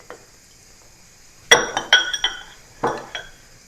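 Sliced onions drop into glass canning jars in a few sharp clinks and taps, a handful of bright glassy hits clustered in the middle of an otherwise quiet kitchen moment.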